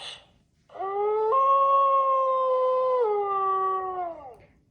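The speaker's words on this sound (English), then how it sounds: "Wolf." A single wolf howl, loud and close, held steady for several seconds with a slight pitch step partway through before tapering off, with a faint breathy sound just before it.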